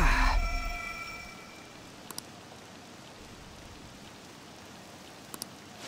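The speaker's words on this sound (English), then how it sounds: "This rain ain't too bad." Rain falls steadily in the Persona video game, a continuous even hiss that holds throughout, with a brief louder sound at the start and a couple of faint sharp ticks later.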